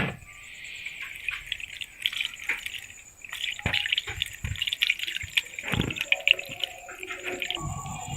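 Whey from vinegar-curdled milk trickles and drips through a muslin cloth laid over a sieve while rasmalai is made. It is a close, steady patter of small splashes with no voices.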